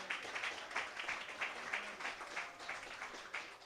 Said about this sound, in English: That's right, absolutely, round of applause.